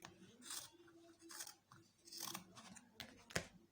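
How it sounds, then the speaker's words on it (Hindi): Scissors snipping through fabric to cut a homemade face mask, heard as several close, crisp cutting strokes spaced unevenly over a few seconds, quiet and without talk. "यूँ ऐसे हम इसको काट लेंगे।"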